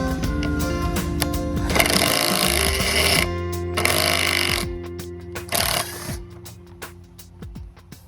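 A power drill fitted with a wrench removes bolts. Its motor whirs in loud bursts, mixed with mechanical rattling and clunks that taper off near the end.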